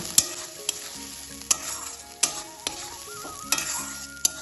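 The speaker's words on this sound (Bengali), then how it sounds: "এবার তেলে দিয়ে দেবো সব উপকরণগুলোর পেস্ট আর দিয়ে দেবো বাকি চিংড়ি মাছ ভাজাগুলো" Oil sizzles steadily as spice paste and fried prawns cook in a pan, with sharp scraping stirs at irregular intervals and no voices.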